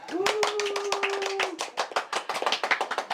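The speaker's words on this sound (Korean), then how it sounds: "그 정량치 10억 달성 축하 박수" Congratulatory applause from a small group at a studio talk show, a quick run of close, sharp hand claps that starts loud and thins into scattered claps, with a brief tonal sound early on.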